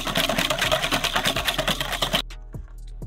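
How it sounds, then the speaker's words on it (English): A whisk beats a homemade Big Mac-style special sauce of mustard and white wine vinegar in a bowl, giving fast, even scraping strokes for about two seconds before stopping, followed by a couple of faint knocks. "And then we want a whisk. Whisk it good."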